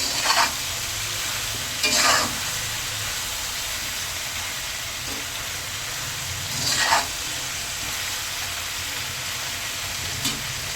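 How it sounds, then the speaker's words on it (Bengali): Vegetables fry in oil in a pan with green chilies, ginger and garlic, a steady sizzle that never stops, broken by a few louder scraping stirs near the start and middle. "দিয়ে আমি এখন সবজিটা তেলে ভেজে নিতেছি।"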